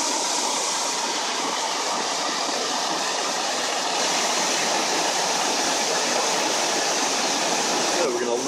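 Oneonta Gorge waterfall pours in a steady, dense rushing roar, close and constant, with no breaks.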